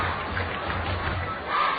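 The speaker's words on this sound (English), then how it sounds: "All this encouragement and cheering." Spectators at a minor-league baseball game in Cedar Rapids cheer and shout encouragement, a brief, moderately distant swell of crowd noise with no clear speech.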